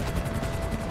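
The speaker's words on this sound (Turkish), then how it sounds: "Helikopter her şey peşimde benim diyor." Rapid rotor thumping of a helicopter in GTA V, steady and continuous for a brief moment, no talk.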